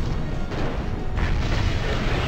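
Artillery explosions in the MechCommander video game, a dense, loud rumbling barrage of booms with no clear gaps, overlapping blasts sustained across the whole stretch.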